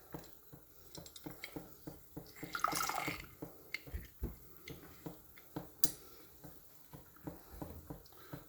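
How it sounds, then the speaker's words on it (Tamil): Lemon halves squeezed by hand into chicken mandi stock give a run of soft, close drips and small wet splashes, with a brief juicy squelch near the middle and a scattering of light taps. "ஸோ ஒரு லெமனோட ஜூஸ் நாம் இப்போ இந்த ஸ்டாக்லேயே ஆட் பண்ணியாச்சு"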